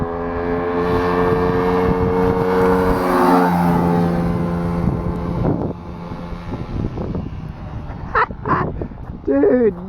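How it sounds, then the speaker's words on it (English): A tiny quad ATV engine, just brought back to running, revs up high with a loud, whining buzz that climbs and holds. It then drops back, and brief voices come in near the end. "Oh, you can hear it revving way up."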